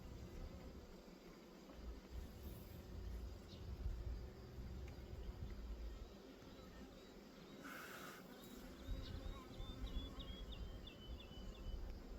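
Steady low insect buzzing from many honey bees at an open hive during a honey harvest, a continuous droning hum at close range with occasional faint chirps above it.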